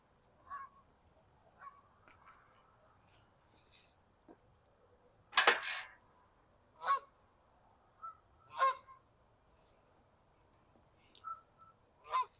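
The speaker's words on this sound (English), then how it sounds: "You can hear a goose flying overhead." A flying goose honks overhead in an autumn garden, giving several distinct calls spaced across the stretch, one louder burst midway and others fainter, with no talking.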